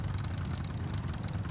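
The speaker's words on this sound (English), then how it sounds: "Those motorcycles are super loud." Loud motorcycles idle nearby, a continuous low throbbing engine rumble that holds steady throughout with no pauses.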